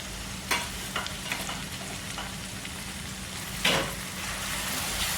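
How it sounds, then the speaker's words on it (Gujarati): Chopped green garlic, dried tempering spices and onion frying in hot oil for matar paneer, a steady close sizzle with a few sharp crackles and a louder burst as more goes in. "હવે આપણે આ સૂકા વઘાર હતો એ નાખી દઈશું, ડુંગળી છે એ નાખી દઈશું"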